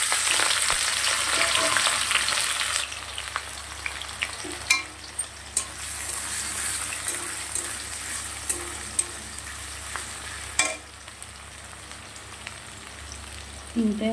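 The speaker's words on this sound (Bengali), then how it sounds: "এখানে দুটো মাঝারি সাইজের পেঁয়াজ দিয়ে দিলাম।" Two medium onions added to hot oil with whole cardamom and other whole spices, sizzling steadily in a pan with occasional sharp pops and stirring scrapes, close and moderately loud, with no talk.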